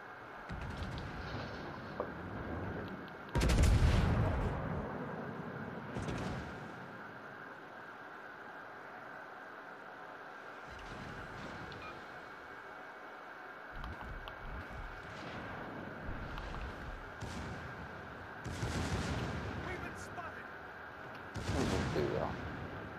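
Battleship guns fire in World of Warships: Legends aboard a Brandenburg, giving a few heavy, distant-sounding booms spread across a steady hum of game ambience, one blast notably louder than the rest.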